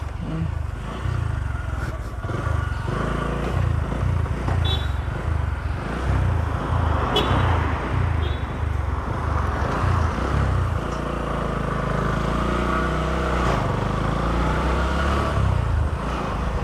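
A motorcycle rides along a road with a steady, close engine drone and a faint rhythmic pulse, mixed with wind and road noise for the whole stretch.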